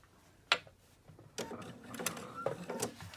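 A domestic sewing machine stitches a cloth napkin at the fabric edge, a sharp click followed by a short run of rapid mechanical chatter, close and moderately loud with no talking.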